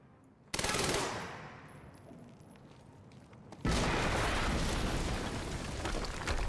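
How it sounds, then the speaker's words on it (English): An explosion blasts open a locked door in Quantum Break with a sudden loud boom and a decaying rumble, then a second heavy blast of roaring noise follows. "we just heard an explosion near the harvesting perimeter"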